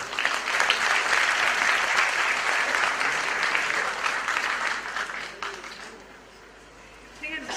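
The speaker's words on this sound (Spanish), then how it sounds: "Un aplauso muy fuerte" An audience at a cultural event applauds a speaker being introduced, steady dense clapping for about five seconds that then fades out, with a voice starting again at the end.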